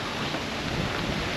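Steady rain falls over a Vietnamese battlefield site, a dense, continuous broadband hiss with no breaks and a faint low rumble underneath, heard close and moderately loud with no one speaking.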